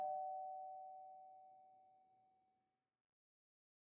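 A doorbell gives a single clear electronic ding that rings out and decays slowly over about two seconds, leaving near silence, with a brief burst of noise at the very end.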